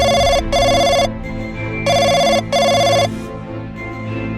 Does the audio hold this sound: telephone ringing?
yes